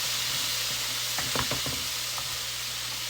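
Steady loud sizzling of shrimp frying in a pan for mofongo, with a few clattering stirs and scrapes partway through.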